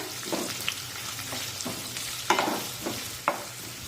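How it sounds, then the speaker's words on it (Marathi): Thinly sliced onion sautéed in a pan for a capsicum dry curry, a steady close sizzle with several sharp scraping turns of a spatula spaced a second or so apart. "हा कांदा छानपैकी परतून घेऊया"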